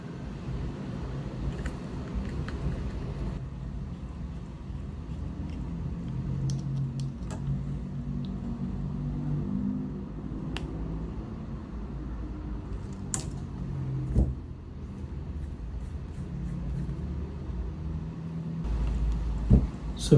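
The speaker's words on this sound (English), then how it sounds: "Now the motor feels a lot more smoother." A rebuilt motor from a 1970s Dual 1229 turntable runs with a steady low hum, close by and fairly quiet, broken by a few small clicks and taps.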